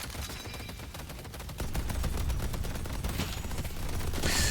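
Turrets fire steadily in the Deadlock video game, a dense run of rapid shots that grows louder partway through, heard alone without speech.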